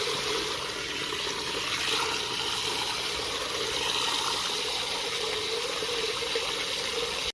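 Water pouring into a container for mixing a potash solution, a steady continuous rushing and gurgling stream, close and even throughout with no talk.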